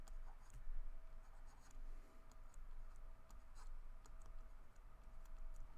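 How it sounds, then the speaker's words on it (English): Handwriting on paper while working through an Arabic grammar lesson: a steady, close scratchy pen or pencil stroking with small ticks and taps throughout, faint and continuous, no voice. "So I'll just write down here wahid muannas."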